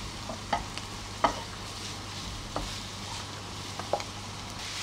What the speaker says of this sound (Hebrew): אני מטגנת את הבשר עד שהבשר משנה את הגוון שלו